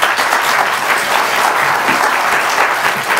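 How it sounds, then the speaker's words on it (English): Loud, sustained applause from a lecture audience at the end of a public science talk, a thick, continuous wash of many hands clapping without pause. "we have to clap very loudly so that you can hear it"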